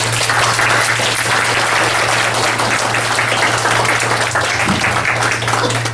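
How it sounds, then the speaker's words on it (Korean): A lecture audience gives a long, full round of applause to welcome a speaker, a dense and steady wall of clapping with a low constant hum underneath. "큰 박수로 환영하겠습니다."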